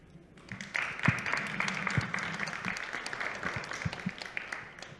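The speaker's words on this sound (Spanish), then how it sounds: "les pido un aplauso, por favor." Audience applause at a book presentation at the Mineria book fair: a steady, moderately quiet wash of many clapping hands from a crowd, sustained for several seconds with a few louder claps standing out.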